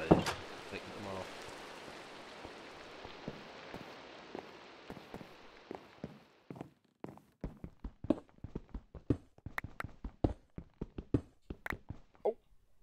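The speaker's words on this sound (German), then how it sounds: "Jawoll, regnet immer noch." Rain falls steadily in a Minecraft modpack game, a dense hiss for the first half before giving way to scattered sharp taps and game sounds.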